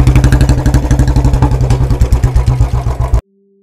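A Bullet motorcycle engine idles close by with a loud, steady, thumping beat of evenly spaced pulses, then cuts off abruptly, leaving near silence with a faint hum.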